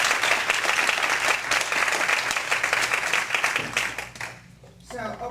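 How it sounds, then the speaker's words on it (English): An audience at a human trafficking conference gives a round of applause, dense and fairly loud, fading toward the end before a brief voice and a few scattered claps. "thank him with a nice round of applause"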